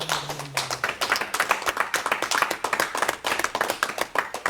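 A church congregation claps together during a service, crisp hand claps falling in a quick, fairly regular rhythm close by, with a brief voice heard right at the beginning.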